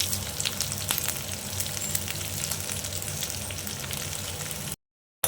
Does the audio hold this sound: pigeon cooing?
no